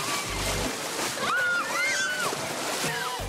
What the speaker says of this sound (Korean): 파도 시작합니다